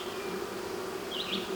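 Honey bees swarming around an opened hive box and comb, a continuous close droning buzz with a slightly wavering pitch and no talk.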